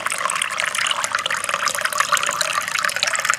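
Plain water pours into a vessel of roasted semolina, making a close, continuous splashing trickle with no voices over it.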